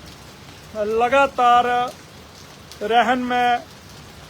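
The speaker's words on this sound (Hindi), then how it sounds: "लेकिन तेज बारिश जो है वो शुरू हो चुकी है" Heavy rain falls after a storm in Himachal Pradesh as a steady broadband hiss of downpour. Someone speaks over it in short phrases.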